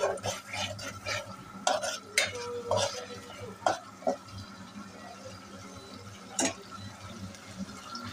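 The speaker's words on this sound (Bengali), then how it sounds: "মশলাটা আমি ভালো করে কষায় নিলাম" Spice masala with large green chillies stir-fried in oil for aloo dum, a soft low sizzle under intermittent spoon scrapes and clinks against the pan, fairly quiet and close, with no voices.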